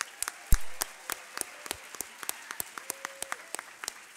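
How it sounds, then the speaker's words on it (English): An audience at a book awards reading claps for the fiction finalists, a thin, sparse round of individual claps spaced unevenly across a quiet hall. "Please give a round of applause for our fiction finalists"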